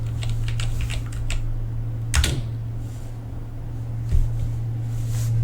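A short command is typed on a computer keyboard: a quick cluster of close keystroke clicks, then a couple of isolated taps, all over a steady electrical hum.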